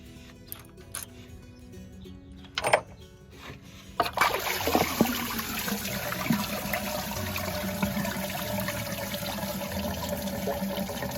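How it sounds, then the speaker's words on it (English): Antifreeze drains from a 6.2L Ford F250 engine into a pan beneath the truck, starting after a few clunks as a steady splashing trickle that runs continuously and fairly close. "you'll want a pan down underneath the vehicle to catch all the antifreeze that'll come out"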